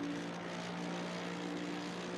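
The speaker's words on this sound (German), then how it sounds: "Aber der Maserati klingt wirklich geil" Maserati race car engine in Assetto Corsa on Imola during an endurance race, a steady loud droning roar with a constant pitch and no breaks.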